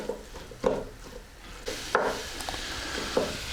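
Beef with Italian seasoning fries in a pan, a low steady sizzle broken by a few distinct clatters and scrapes of a utensil against the pan, close by.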